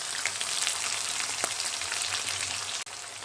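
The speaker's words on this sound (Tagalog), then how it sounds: "Ilalagay ko naman ngayon ang sibuyas." Chopped onions hitting hot oil in a pan for Filipino ginataang manok, a steady dense sizzle and crackle that runs continuously, close up, with a brief clink near the end.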